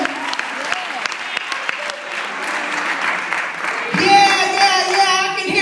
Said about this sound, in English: clap your hands and give God some praise